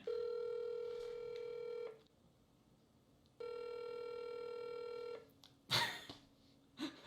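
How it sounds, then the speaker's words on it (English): Ringback tone of an outgoing call to a radio station's studio line, two long steady ringing bursts separated by a pause, close and clear, followed by a brief rustle or click. "I am calling Kiss FM's studio line"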